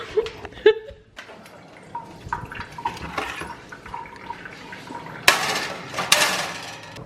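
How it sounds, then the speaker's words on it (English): Vegan wings being tossed in barbecue sauce in a kitchen, with wet clatter and clinks of dishes and utensils, a few sharper knocks and scrapes, and faint background noise between them. "I'm gonna toss them in the sauce."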